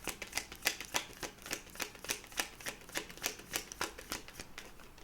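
Tarot cards shuffled and drawn by hand, a rapid run of crisp riffling flicks and slaps close by, with no talking.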